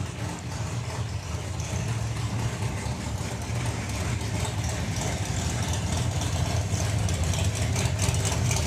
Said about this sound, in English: the car doesn't sound happy on the burnout again